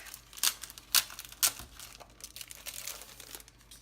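A paper pack from a Felicity Jane scrapbooking kit crinkles and rustles up close, with three sharp crackling bursts followed by softer, steady handling noises.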